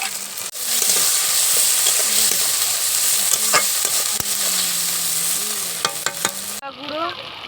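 Fish curry spiced with chopped onion, green and red chillies and ginger paste sizzles steadily in the pan while a spoon stirs and scrapes through it, with a few sharper clicks near the end.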